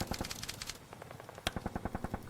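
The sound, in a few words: gunfire as infantry open fire on sniper team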